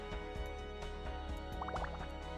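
Water is collected in the space gardening game Moon Garden, heard as a quick run of small drips and liquid bloops over a steady humming synth background.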